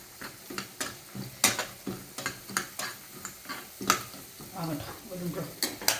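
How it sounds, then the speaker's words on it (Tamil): Almonds and cashews frying in a pan, a soft sizzle broken by repeated sharp clicks and scrapes of a spoon stirring against the metal, close and moderately loud, with no speech. "சேர்த்துட்டு அது நல்லா ஃப்ரை ஆகட்டும்."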